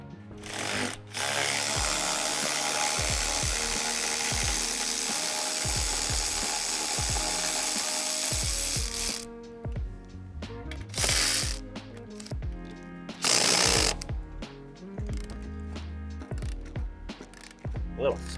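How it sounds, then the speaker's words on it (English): Ratchet wrench cranking loose the two brake caliper bolts on a Cadillac CTS, long runs of fast mechanical clicking, loud and close, with short pauses and bursts of heavier turning. "first thing we're gonna do is get this caliper off, and it's 2 bolts holding it on"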